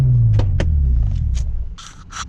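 A BMW car is driven onto a trailer. Its engine rumbles low and close, then fades, with scattered clunks and knocks as it rolls up.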